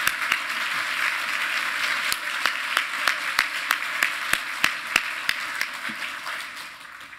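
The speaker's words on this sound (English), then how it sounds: "So a round of applause to Victor" An audience at an award presentation applauds steadily, with broad clapping and a few sharp, louder individual claps punctuating it, fading toward the end.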